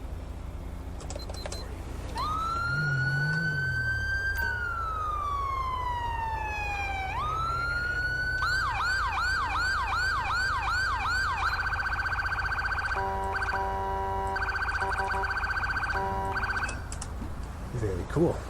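Default police siren in the GTA V LSPDFR mod, heard in-game: a loud electronic wail sweeping up and down, then switching to rapid yelp cycles and a high-low pattern, steady and close over a low engine drone.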